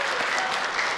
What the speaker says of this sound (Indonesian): tepuk tangannya boleh hadirin sekalian untuk seluruh pasangan calon di segmen ini